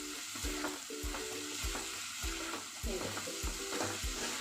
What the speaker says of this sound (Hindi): अब इसे 2-3 मिनट ना इसी तरह से खुले में हम इसे चलाते हुए ना भून लेते हैं